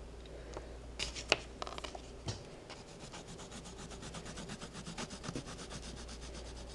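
A wax crayon rubbed across paper, quiet close scratchy strokes in an uneven, repeated rhythm with a few sharper scrapes early on, no talking.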